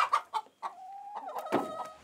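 Laying hens on a small farm clucking, with a run of close, fairly loud clucks and squawks overlapping one another and no speech.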